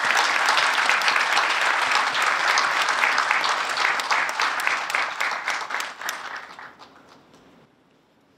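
Dense applause from an audience at a pile-driving ceremony for the Kyushu Chuo Expressway in Takachiho, steady and loud at first, then thinning and fading out toward the end.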